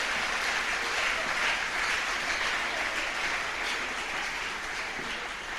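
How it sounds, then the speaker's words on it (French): A church congregation claps for the Lord, a dense, steady wash of applause that holds at an even level from start to finish with no voices over it. "Clap for the Lord."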